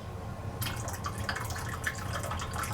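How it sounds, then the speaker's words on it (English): Coffee is poured out of a cup into a sink, a sudden trickling, splashing liquid stream that starts abruptly and runs steadily with small drips, close and fairly quiet, with no talking. "I did go ahead and pour most of the coffee out"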